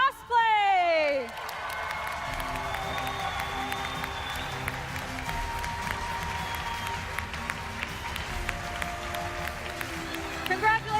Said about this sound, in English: one more round of applause for all of our needlework finalists